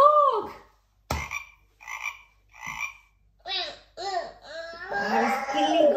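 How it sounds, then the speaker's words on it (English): A cartoon frog croaks in a children's animated show (Bing), a series of short separate croaks with pauses, then quicker, more chattering croaks that run together toward the end. "we can only hear the frog. Ribbit, ribbit, ribbit."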